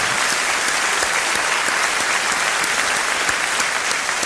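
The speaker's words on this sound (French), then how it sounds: "On t'applaudit très fort." An audience claps loudly and steadily throughout, a dense continuous wash of applause at a comedy show with no voices standing out.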